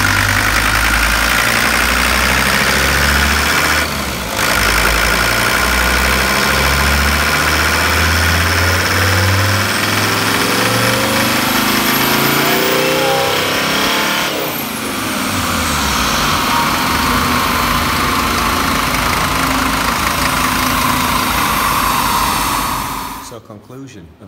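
A Mercedes W123 with a turbocharged OM617 diesel engine pulls up through the gears. Loud, clattering engine drone rises and falls with each shift, then swells under full throttle in fourth with a rising turbo whistle.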